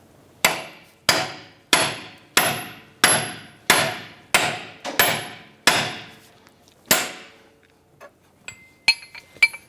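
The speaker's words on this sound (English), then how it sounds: "use a pickle fork to separate the outer tie rod ball joint from the knuckle itself" A pickle fork is hammered to separate the outer tie rod ball joint from the steering knuckle on a 2010-2016 Cadillac SRX: about ten sharp, ringing metallic strikes in steady rhythm, close and loud, followed by a few lighter clinks.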